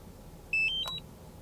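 A DJI drone controller switching on gives a short run of bright electronic beeps, three quick tones rising in pitch, clear and close against a quiet room with faint background hiss.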